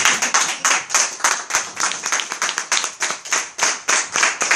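Worshippers at an evening church service clap in unison in a fast, driving rhythm, each beat sharp and close, the steady pulse continuing loudly without speech.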